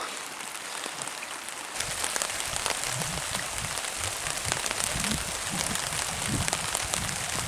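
Rain pattering on a tarp at a campsite along a trail, a close, steady patter of drops that thickens after a quieter start and keeps a dense, crackling texture, with no talking.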